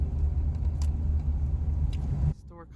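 A truck rumbles past on the road, a heavy low drone that lasts a couple of seconds and then cuts off suddenly as the vehicle moves away.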